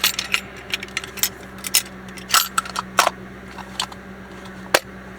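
A small bunch of three car keys clinks and jangles in bursts of metallic taps and rattles, close and fairly loud, with short pauses between handlings.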